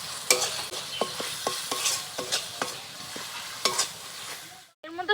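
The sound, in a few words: stirring chicken masala filling with spices and sugar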